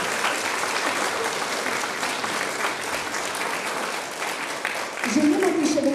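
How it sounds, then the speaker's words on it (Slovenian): A large audience gives a big round of applause for volunteer Toni Walker at a volunteers' reception, dense clapping throughout, with a voice beginning to speak near the end. "En velik aplavz za Tonija Walkerja."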